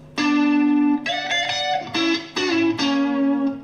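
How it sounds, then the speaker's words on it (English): Electric guitar line, played through a harmonizer set a third below, so the melody sounds doubled in parallel intervals: a held note, then a phrase of sustained, slightly overdriven notes, close and without voices. "I take a harmonizer and I pitch it down a third"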